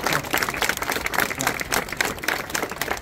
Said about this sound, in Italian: Vogliamo fare una applauso a Santa Rosalia?